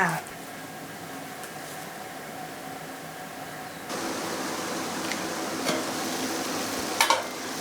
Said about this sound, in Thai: พอน้ำเดือดแบบนี้นะคะ